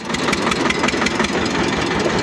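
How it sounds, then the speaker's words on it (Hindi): Tractor engine running after starting, a loud, steady rhythmic chugging close by throughout, with no talk. "हो गई अपनी गाड़ी चालू"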